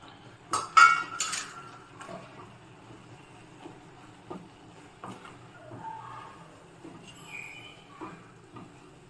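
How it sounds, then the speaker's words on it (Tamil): A spoon clinks and scrapes against a metal pan as flour goes into salted water for uppu urundai. The clatter is loudest at the start, then drops to soft intermittent scrapes and taps close by, with no voices. "இப்போ மா போட்டு கிளறலாம்"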